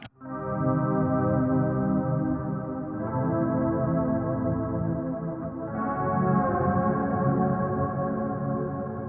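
Electric guitar played through a Kemper Profiler amp modeler with no delay or reverb, sustained distorted chords ringing dry and loud, changing at two points, alone with no talk.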